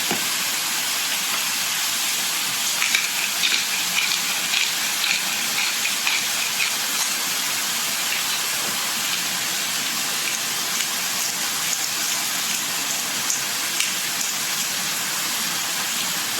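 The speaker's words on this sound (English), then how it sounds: "you want to saute your beef until all the juices dries out" Seasoned ground beef sautés in a pan for a lasagne with a steady, even hiss and crackle, close and moderate in level, holding constant throughout with faint pops scattered across it.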